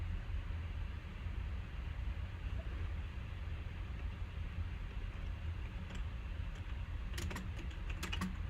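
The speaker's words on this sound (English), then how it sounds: "I have a very loud and obnoxious keyboard." Rapid clicking keystrokes on a loud, obnoxious computer keyboard, faint beneath a steady broadband hiss, with a short burst of sharper clacks near the end and no talking.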